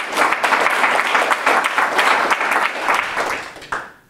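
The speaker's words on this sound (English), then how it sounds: "Let's give Patrick a round of applause because that is awesome." An audience at a Rails programming talk gives Patrick a round of applause: loud, dense clapping that holds steady for several seconds, then fades and ends with a last short burst.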